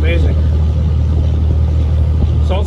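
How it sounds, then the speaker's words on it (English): A 2006 Dodge Ram 2500 with a Cummins inline-six diesel idles with a deep, steady exhaust rumble, loud and close, while someone talks over it. "That exhaust just sounds amazing."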